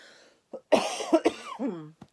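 A person coughs a few times in quick succession, close up, with a short throaty follow-through at the end.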